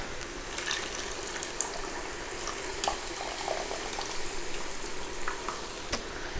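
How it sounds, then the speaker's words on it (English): Juice from a big can of whole tomatoes pours into a pot, a soft, close liquid splashing and gurgling with small irregular drips and spatters over a few seconds, no voices. "So I have a big can of whole tomatoes, and I start by dumping in the juice."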